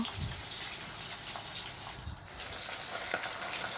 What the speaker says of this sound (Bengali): তেলের মধ্যে আমি তিনটা করে মাছ ভাজিয়ে নেব।